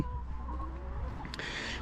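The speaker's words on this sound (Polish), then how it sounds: "Tu akurat no niestety są kury" Hens cluck softly in the background, a few scattered calls over a steady low hum, with no talking.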